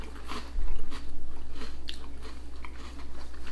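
Crisp bites and steady crunchy chewing on a bacon-flavoured TUC cracker, close and loud, with a sharp bite near the start and rhythmic chewing continuing throughout, no talking.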